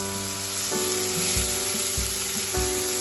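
Pointed gourd flesh stuffing frying in a pan, a constant bright sizzle with occasional stirring knocks, close and fairly loud throughout.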